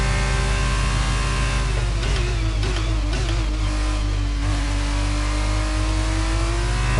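An F1 car engine in the F1 22 game at Azerbaijan revs hard through the gears. A loud, close, high whine climbs and drops with each upshift, then holds a steady tone.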